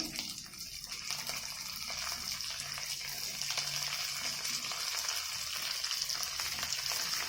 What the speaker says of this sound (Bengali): সব সবজি একটা একটা করে ভাজতে ভাজতে পেঁয়াজ ভাজা হয়ে যাবে